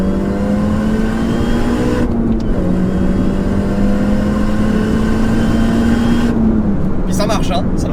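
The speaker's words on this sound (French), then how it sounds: "Par contre là je mets pied au plancher à 4000 tours en deuxième." A supercharged Mini Cooper S R53 pulled at full throttle in second gear from 4000 rpm, a loud steady engine note with supercharger whine, briefly dipping at a gear change, with a voice talking over it.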